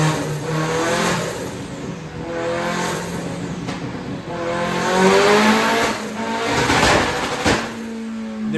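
A 1.6-liter turbocharged Miata drift car engine revs hard on a dyno, its loud, sustained roar rising and falling in pitch over several seconds without any talking.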